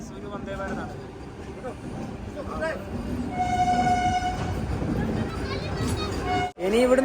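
The Mysuru Vande Bharat express train sounds a steady, sustained horn tone midway through, over a constant rail rumble at a station, with a few other brief tones and some background voices.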